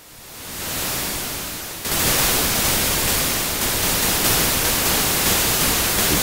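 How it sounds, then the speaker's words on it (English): A Waldorf Q digital synthesizer's white noise generator hisses steadily, rising in from quiet, then jumping to a louder, bright full-band wash that holds for several seconds. "We've got white noise here."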